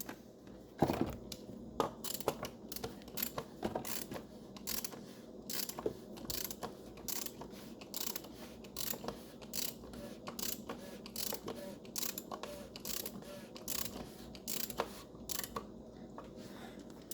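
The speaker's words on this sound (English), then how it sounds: "So we're gonna grab our wrench and start tightening this down" A wrench ratchets in quick repeated clicking strokes while tightening a paper-element oil filter housing on a car, a crisp close rhythm of pawl clicks with brief pauses between bursts.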